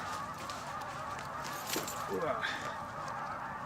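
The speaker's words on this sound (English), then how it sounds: "Got some geese flying in, I don't know if you can hear that or not" Faint honking of geese in the distance, a few calls rising over steady outdoor background noise.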